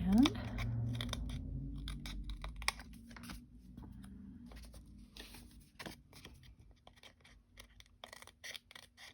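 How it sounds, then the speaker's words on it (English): Brand new, very sharp scissors snip through card stock during card making, producing a string of quick crisp cuts and clicks up close, with some paper handling in between. "these are brand new scissors."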